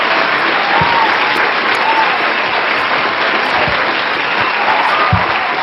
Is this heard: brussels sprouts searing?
no